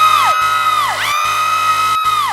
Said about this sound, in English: People started screaming.